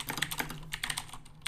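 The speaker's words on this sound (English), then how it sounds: "this keyboard, guys, that you're hearing clickety clack around is actually Preston's old keyboard" An old computer keyboard is typed on in quick bursts of clattering key clicks, fairly close and crisp, with a short pause midway before the tapping resumes, no voices.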